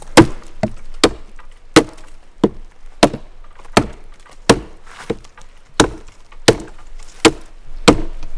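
A SOG FastHawk tomahawk chops notches into very hard, dry wood outdoors: about a dozen sharp, close, woody thwacks land at an uneven, steady working pace, with no voices.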